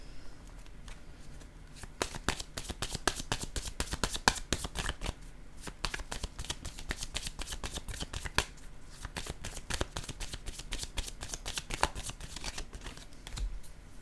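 Cards being shuffled and drawn for a card reading, close crisp riffling and snapping that comes in dense bursts across the clip, with short lulls between runs and no talking.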